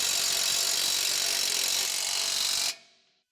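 A ratchet wrench tightens the outer nut on a 2021-2024 Ford Bronco 4WD 2-inch lift kit, giving a steady, close run of rapid ratcheting clicks that stops abruptly near the end.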